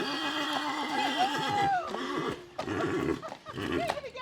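A horse whinnies at a farm stable in Rochester, Massachusetts, its rising and falling neigh standing out over background chatter, hoof movement and other farm animal sounds, fairly close.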